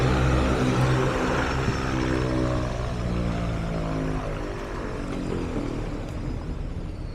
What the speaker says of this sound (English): These planes are quite noisy.